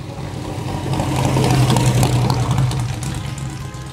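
Big Cadillac V8 in a sports car with a straight-through exhaust, a loud, steady close-up engine drone that swells in the middle and holds, no talk.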